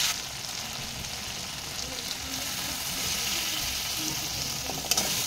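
A banana flower curry mixture with turmeric sautés in a pan, producing a continuous close sizzle with faint stirring scrapes throughout and a brief clink near the end, no voice.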